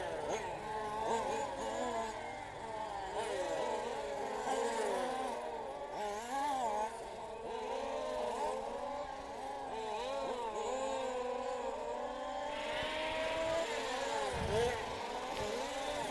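Formula race cars lap a circuit during a practice round in Luxembourg, their engines whining and shifting pitch as they pass at a distance, steady and continuous while a commentator talks over them.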